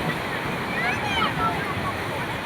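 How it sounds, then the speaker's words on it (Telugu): Sea waves wash up on Mypadu beach in a constant rolling roar, with wind rumbling across the microphone and voices talking nearby. "ఈ అలలైతే నన్ను ఆడుకుంటున్నాను. పేరు రాస్తూ ఉన్నాను, నీళ్ళు వచ్చి తీసుకెళ్ళిపోతున్నాను."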